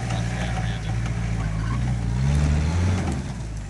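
Toyota Hilux engine rumbling low during an off-road climb, swelling louder midway as it strains uphill, with faint voices in the background.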